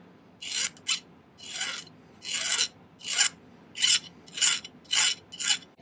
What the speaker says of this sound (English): And let's file the end nice and flat.